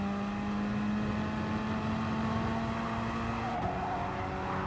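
Gr.4 Ferrari race car sliding through a chicane at Dragon Trail Gardens in Gran Turismo Sport, a steady loud engine drone holding one pitch, then a shift and brief tire scrub near the end.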